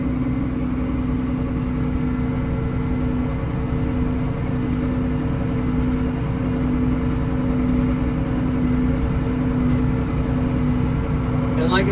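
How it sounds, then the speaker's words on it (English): A Case IH 2594 tractor engine runs steadily in sixth gear, range 4, a continuous low droning hum with a constant mechanical tone throughout and no breaks. "The motor sounds great in this little tractor."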